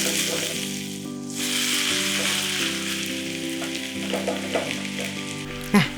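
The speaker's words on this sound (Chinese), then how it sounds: "接下来来煎厚版的薯饼" Thick potato cake frying over very low heat in a Vermicular enamel cast iron pot, giving a steady close sizzle with a few soft bumps, over a faint tonal background.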